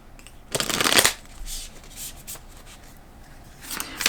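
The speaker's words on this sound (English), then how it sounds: "I'm going to pull one more card." Tarot cards shuffled in a riffling burst, then softer rustles and a few brief card snaps as single cards are drawn, close and clear with no talking.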